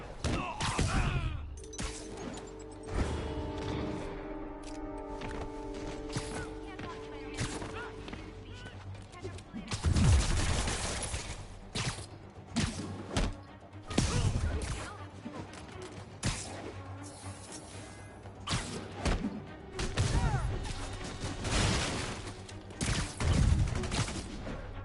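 Bursts of gunfire crackle and thud through a fight in Spider-Man Remastered, mixed with impacts, crashes and music; characters talk over the action as loud clusters of shots come in uneven waves.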